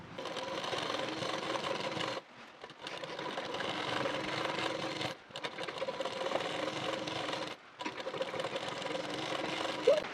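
A sewing machine stitches the folded cuff of a nightie sleeve, running loud and steady in three long bursts separated by brief pauses, with no talk.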